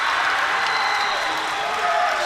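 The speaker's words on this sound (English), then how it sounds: "listen to this crowd" A crowd at a college swimming meet between Bucknell and Army cheers and applauds in a large echoing space. The roar is loud and sustained, with voices blended into the noise.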